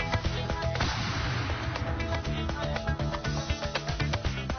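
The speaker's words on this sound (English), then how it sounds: "It's now ready for a test fire." A full-scale replica cannon is test-fired, one sharp blast that rolls into a rumbling echo, followed by lingering clatter and rhythmic mechanical knocks.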